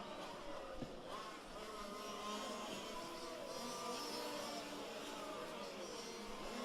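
Fifth-scale RC race cars lapping a track during an A main race, their small engines making a steady, fairly distant drone that holds throughout, with a commentator talking over it.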